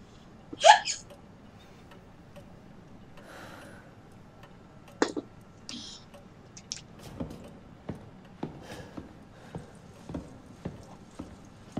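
A character in the horror video game Resident Evil 7 hiccups sharply and loudly once near the start, then sparser clicks and taps follow at a steady pace against a quiet room background.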